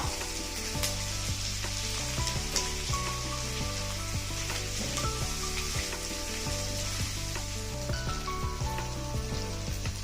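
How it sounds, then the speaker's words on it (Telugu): A handful of mint and coriander leaves frying in hot oil for prawn pulao: a dense, even crackling sizzle that holds steady for ten seconds, close and continuous, with no voices. "ఇందులో గుప్పెడు పుదీనాకు గుప్పెడు కొత్తిమీర వేసి కొంచెం సేపు వేగనిద్దాం"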